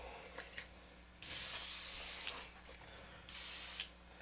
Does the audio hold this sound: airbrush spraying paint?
yes